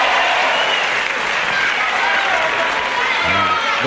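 A wrestling crowd at a 1973 bout applauds, a dense, sustained wash of clapping and cheering filling the hall, with a commentator's voice briefly heard near the end.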